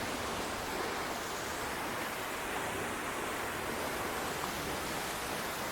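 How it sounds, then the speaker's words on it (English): A waterfall roars with a dense, steady broadband rush, loud and close as if from right beside or behind the falling water, unbroken throughout with no voices. "One of the coolest things about this waterfall is that you can actually go behind it."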